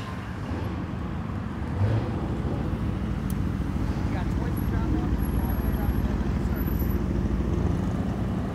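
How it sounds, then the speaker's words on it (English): A Lamborghini Urus rolling in at a New Year toy-drive car rally, a loud steady engine drone with wind-like rumble throughout, close and continuous; voices mingle underneath. "Got the Urus coming in."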